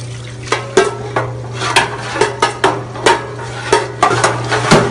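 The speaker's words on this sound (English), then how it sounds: "Use that hot oil to actually wash out that fryer." Hot oil sloshes through a deep fryer while a metal tool scrapes and knocks against the pot in a regular series of clanks over a constant low hum, close and fairly loud, without talking.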